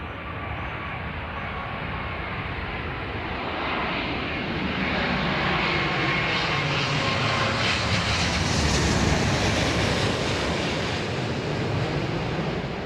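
Jet airliner landing on runway 27 left at London Heathrow in gusty crosswind conditions, a loud sustained engine roar that swells and broadens as it passes close overhead, with a steady rushing wash throughout.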